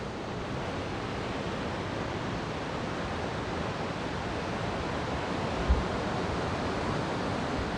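Ocean surf on the beach at Panama City Beach, Florida, makes a steady, wide wash of breaking waves heard at moderate distance, unbroken for the whole stretch with one faint thump and no voices.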